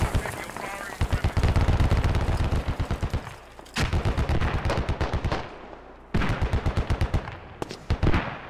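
Automatic gunfire fills a Squad battle: loud, rapid bursts of shots in quick rhythmic strings, broken by brief pauses, with voices talking underneath.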